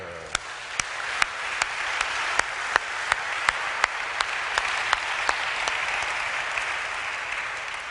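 A church congregation applauds in steady, sustained clapping, a dense crowd wash with a few sharper individual claps standing out at regular intervals, continuing without pause.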